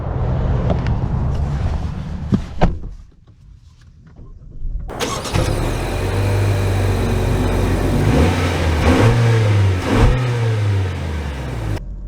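A 2024 Honda Accord Turbo starts and pulls away, its engine rising from a quiet cabin into sustained, close acceleration with the pitch climbing and shifting through gears.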